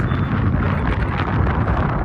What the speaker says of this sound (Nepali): पुल हल्लिराखेको छ हावा लागिरहेको छ